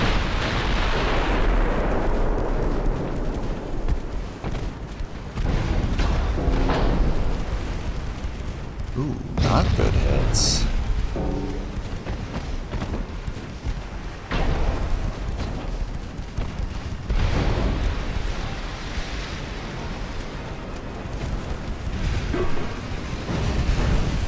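Heavy naval gunfire from warship main batteries at close range in the game Ultimate Admiral: Dreadnoughts, several deep booming salvos with rumbling decay over a continuous loud battle din.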